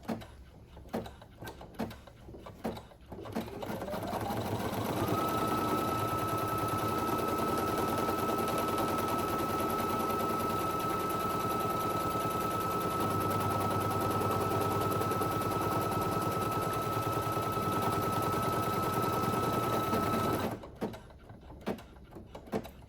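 Single- or multi-needle embroidery machine stitching the outline of an in-the-hoop ID badge holder: a loud, rapid, steady mechanical chatter running about fifteen seconds, framed by brief clicks and handling sounds before and after.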